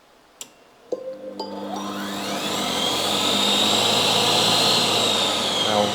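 A Monsieur Cuisine Smart kitchen machine starts spinning in puree mode after a couple of button clicks, its motor whirring up in pitch into a loud, steady high whine.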